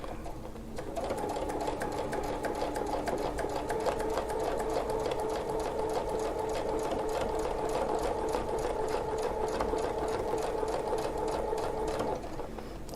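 A sewing machine quilts along a circle template for a wreath design, running continuously for about eleven seconds with a steady, even whir and rapid needle ticking, then stops.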